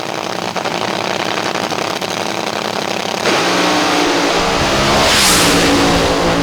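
Top Fuel dragsters race down the strip in the first round at the Tulsa Rumble. A loud, steady engine roar jumps to a heavier, harsher blast midway through and stays intense to the end.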